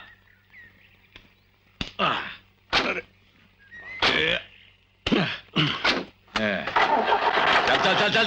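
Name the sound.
car engine starting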